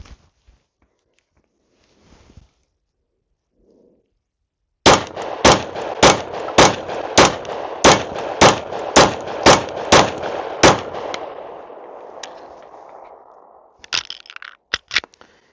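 Glock 43x pistol with a micro ported slide firing a full magazine, about ten sharp loud gunshots in a rapid even string with echo trailing after, then a few scattered clicks and clanks.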